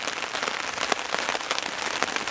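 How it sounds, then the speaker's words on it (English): Steady rain falls at a bushcraft camp in the woods, a dense, continuous patter of drops striking nearby surfaces, with sharper individual splats scattered throughout and no talking. "Alright, well, it still rains. Still raining."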